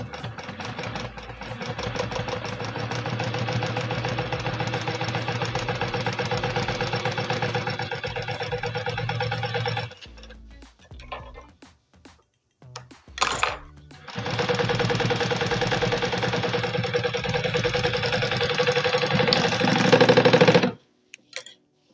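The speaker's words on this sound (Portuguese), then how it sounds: "E aqui eu faço um pesponto nessa parte inteira aqui, bem retinho" A sewing machine runs steadily while topstitching a straight seam on a bucket bag, a close, continuous rapid whirring in two long bursts separated by a short pause with faint handling clicks.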